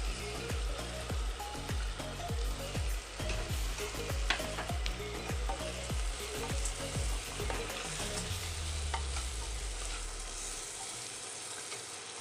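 Moong dal sizzling in hot oil for a masala rice khichdi, with a steady frying hiss and repeated sharp stirring scrapes in the first two-thirds, settling into continuous sizzle, close and fairly loud, no talking.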